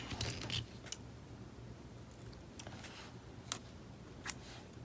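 Scissors cutting paper for a bullet journal layout, a few faint crisp snips and clicks, sparse and close, set against a quiet room background.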